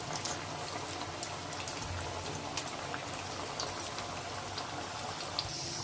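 Matar cutlets frying in hot oil over a medium gas flame, a steady dense sizzle and crackle with fine popping throughout, even and continuous with no voices.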